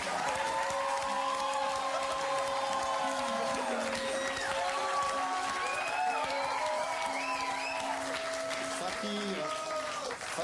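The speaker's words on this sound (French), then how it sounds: "je vous demande de l'accueillir sous vos applaudissements" Studio audience applause greets a fakir performer on a French television quiz show, a steady wash of clapping and crowd noise under overlapping music and voices.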